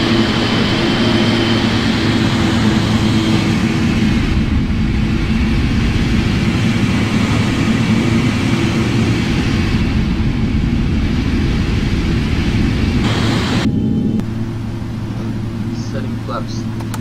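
Boeing 777 jet engines taxiing in a PMDG flight simulator at Atlanta: a steady, loud, low engine rumble with a constant whine that drops slightly near the end.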